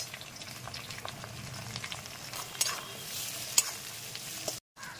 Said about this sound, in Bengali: এই তেলের মধ্যেই আমি দিয়ে দেবো রসুন কুচি আর আদা কুচি এবং এর মধ্যেই দিয়ে দেবো কয়েকটা সবজি, ক্যাপসিকাম, টমেটো আর পেঁয়াজ